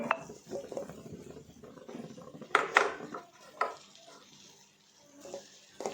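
Scraping and clinking of a spoon stirring mashed potato curry in a pan, with a soft sizzle underneath and a few sharper metallic knocks.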